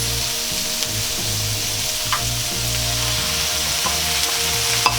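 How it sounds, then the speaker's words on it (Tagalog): Tomatoes hit a pan of sautéed onion and garlic, sizzling in a steady, close frying hiss with occasional light clinks of a utensil while a beef mechado is cooked. No one speaks. "Ngayon pong medyo mabango na yung ating sibuyas at saka bawang, ay pwede na po nating isunod ang ating kamatis."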